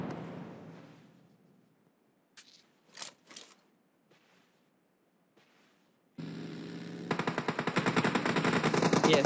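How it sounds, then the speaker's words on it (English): Rapid automatic gunfire from PUBG Mobile in a high-level match, a few isolated shots first, then a sustained loud burst of fast repeated rounds through the final seconds. "Yes, now we shot the man."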